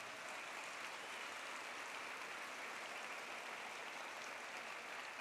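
A church congregation gives sustained applause during a Spanish-language sermon. The clapping is a dense, even wash that stays steady and fairly distant, with no voices over it.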